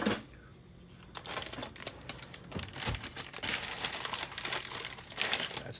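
A 12-ounce plastic food bag crinkles up close, with sharp rustles and bursts of crackling as it is cut open with scissors, a few snips and tears mixed in.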